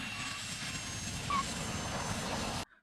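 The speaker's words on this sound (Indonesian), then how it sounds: "ia menaiki sebuah pesawat jet pribadi milik Venegas" A private jet flies with a steady, continuous engine roar heard from inside, holding evenly until it cuts out abruptly at the end.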